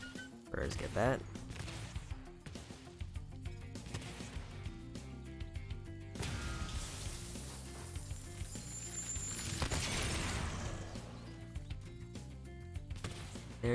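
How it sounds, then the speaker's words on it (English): TNT tower blowing up in the video game Spyro Reignited Trilogy, a loud crashing burst with sizzling debris, heard under busy game music and effects. "There goes the TNT tower."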